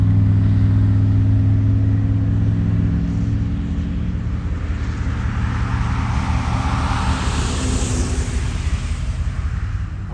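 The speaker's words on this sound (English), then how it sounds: "he's moving the car now" A 1984 Mercedes 500SEC Euro pulls away nearby, its engine a steady low rumble that slowly fades and thins as the car moves off, with no talk over it.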